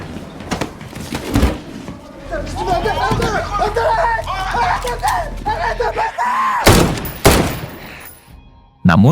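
Pistol shots in a gangster film, several sharp loud cracks near the start and again later, with a tense crowd murmur and voices between them.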